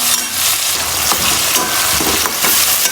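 Tomatoes with garlic and ginger fry in a pan with a continuous, loud sizzle, broken by a few sharp stirring scrapes and taps.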